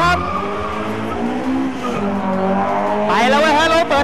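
A drag race car launches hard off the start line, loud engine roar with tire squeal rising sharply near the end, crowd noise and commentary underneath throughout.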